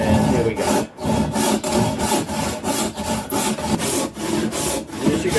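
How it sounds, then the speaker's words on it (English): Sharp Mitre 10 hand saw cutting through wood while a Native flute is made: steady, loud back-and-forth rasping strokes in an even rhythm, close up, with no talk. "Nice sharp mitre 10 saw."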